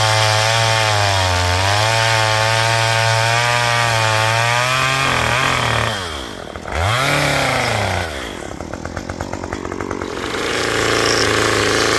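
Chainsaw carving a large wooden gnome, the saw engine droning loud and close with pitch sweeps as the throttle rises and falls, dipping briefly while the chain bites into the wood, then revving again.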